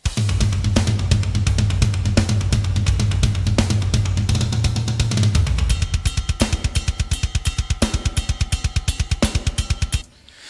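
A heavy drum kit plugin preset pounds out a fast metal beat with rapid double-kick patterns, crashing cymbals and snare hits, ending abruptly.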